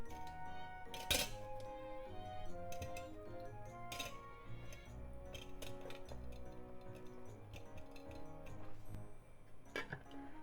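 Dishes and a metal steamer clink and tick as eggplant is set into a steamer pot holding a cup of water, with scattered sharp clinks over steady background tones.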